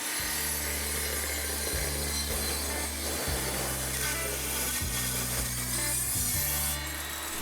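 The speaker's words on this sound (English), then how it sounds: "And now I can go ahead and cut that 1/8 inch strip." Table saw ripping a 1/8 inch strip of wood, a loud constant blade whine and rough cutting rasp, with a low motor hum that pulses in regular steps of about one and a half seconds as the stock feeds through.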